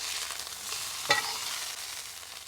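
Smoked tri-tip sears in a hot pan with a steady, fairly faint broadband sizzle and one brief louder crackle partway through, no voices.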